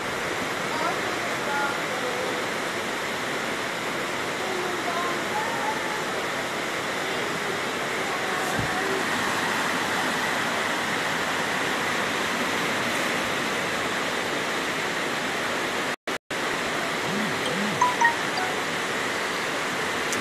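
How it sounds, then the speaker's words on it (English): Floodwater rushes through a flooded housing scheme in Jamaica during heavy rains, a broad, constant roar like a torrent that runs unbroken throughout, with a voice talking faintly beneath it. "It is not a river, it's a housing scheme and it is flooded."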